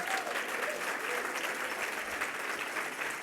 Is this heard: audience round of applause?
yes